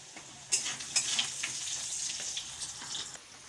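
Potatoes fry with turmeric, chili and cumin in a pan, sizzling steadily while being stirred, with a couple of sharp utensil clinks early on.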